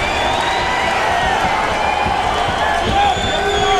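UFC arena crowd chanting a fighter's name, a dense steady roar of voices filling the clip while a commentator talks over it.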